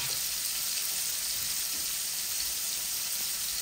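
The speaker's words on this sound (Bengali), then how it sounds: "এই যে আমার মাছটা ভাজি হয়ে গেছে।" Fish fries in oil with a dense, even hiss and crackle that holds steady and loud from start to finish, with no voices.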